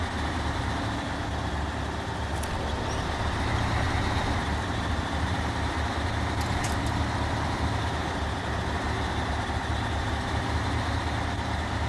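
Heavy logging truck engine in SnowRunner, a steady low diesel drone that runs continuously at even loudness throughout, with no talk over it.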